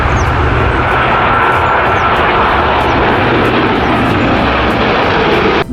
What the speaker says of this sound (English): Wow, an aeroplane.